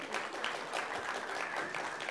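Audience members clap at a homeopathy debate, a moderate, fairly distant round of applause that holds steady for a couple of seconds.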